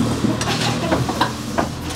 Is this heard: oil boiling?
yes